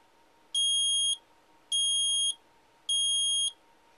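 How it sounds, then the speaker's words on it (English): Altitude alert beeper in a King Air flight simulator sounds three even electronic beeps, each about half a second long and spaced at a steady rhythm, clear and alone over a faint steady hum. "the altitude alert light should come on and stay on, and the beeper will go off, beep, beep, beep"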